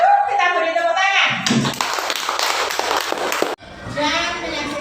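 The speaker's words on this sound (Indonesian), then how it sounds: "Kita beri tepuk tangan." Students in a classroom clap for a presenting group, a short burst of clapping lasting about two seconds, framed by the teacher's voice speaking before and after.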